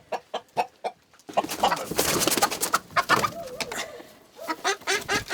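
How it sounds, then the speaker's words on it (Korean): Chickens clucking and squawking inside a coop during a winter visit, a run of sharp single clucks followed by a loud, dense flurry of agitated cackling from several birds, close by, settling back into scattered clucks. "닭장 쪽으로 가시네요. 닭을 잡으실 모양입니다"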